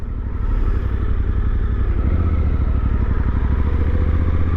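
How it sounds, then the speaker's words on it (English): A Suzuki 800DE motorcycle rolls along smoothly with no throttle, its engine holding a steady, loud, low rumble throughout, close up and without speech. "Just the bike is moving smoothly."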